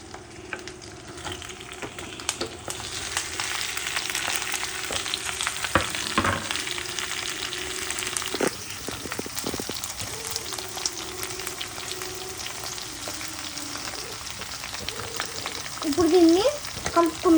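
Chopped tomato pieces fry in a pan with a dense, steady sizzle and occasional stirring scrapes and clacks, close and continuous, with no talking.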